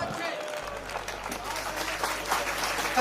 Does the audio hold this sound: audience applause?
yes